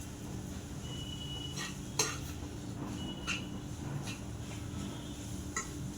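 Onion tomato chutney with crushed peanuts being stir-fried in a pan: quiet scraping and a few light metallic clinks of a spoon against the pan over a faint low hiss, with no one speaking.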